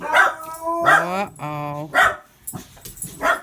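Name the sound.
dogs barking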